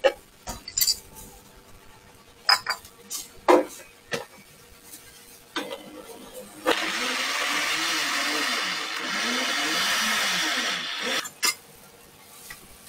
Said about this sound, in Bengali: আমাদের ব্লেন্ডার করা হয়ে গেছে